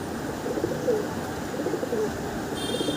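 Pigeons kept indoors, soft low cooing phrases repeating every second or so over a steady background hum, near and moderately quiet.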